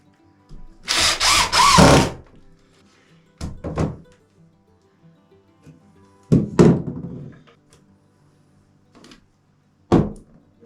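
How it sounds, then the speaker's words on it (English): A power drill drives a screw to hold a piece on a pump enclosure, with a long whirring burst followed by several shorter bursts and thunks spaced apart amid quiet pauses, close by. "I'm just going to put a screw in it here to hold it for now."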